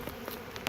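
Honeybees hum in a brief, faint, steady buzz inside an abandoned hive in springtime, with no talk.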